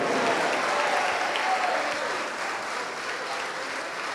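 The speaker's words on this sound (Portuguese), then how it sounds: "vamos aplaudir mais a Jesus" A church congregation claps loudly and continuously, many hands blending into a thick roar that eases slightly toward the end.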